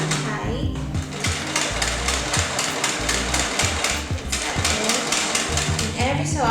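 A sewing machine fitted with a zipper foot stitches fabric piping tight against cording, a fast rhythmic mechanical clatter running steadily and loudly throughout with brief pauses and restarts.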